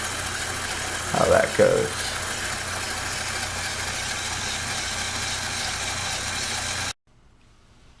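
A motorized Lego pirate ship fair ride hums steadily at mid pitch, with a brief louder whir near the start, running continuously until it cuts off near the end; a voice speaks briefly over it.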